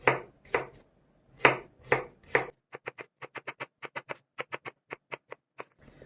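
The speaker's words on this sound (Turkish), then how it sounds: "Hemen acurlarımı da aynı şekilde doğrayacağım." A few heavier knife strokes, then a quick, regular run of crisp chops through cucumbers against a cutting board, close and clear with no talk.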